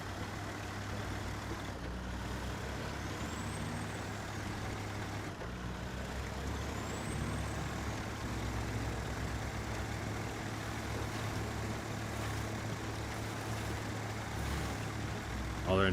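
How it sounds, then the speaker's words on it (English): Heavy truck engine from SnowRunner rumbling at a steady idle, with a low droning hum throughout and two faint, brief high hisses that could be air brakes releasing. "It does have a very distinct sound. That is true. Sounds pretty good. Sounds better than most of the trucks."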